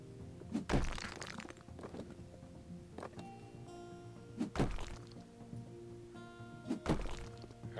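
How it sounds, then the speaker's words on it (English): Walls being knocked down in the video game House Flipper: a few heavy thuds and crunching breaks spaced a couple of seconds apart over a faint steady background hum. "So we destroyed all the walls we have to destroy."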